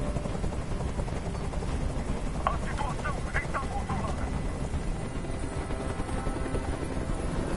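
In Detroit: Become Human, a hovering helicopter churns out a steady, loud rotor drone throughout, with a few brief tonal game sounds poking through midway.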